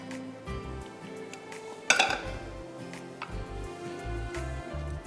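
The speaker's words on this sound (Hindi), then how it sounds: "अच्छी तरह स्क्रैप करिएगा इसको स्पैचुला से या वुडन चमचे से" A metal spatula or wooden spoon scrapes and clinks against a pan while gajar ki kheer cooks with almonds and pistachios, with one sharp clatter amid quieter rhythmic scraping and a low background hum.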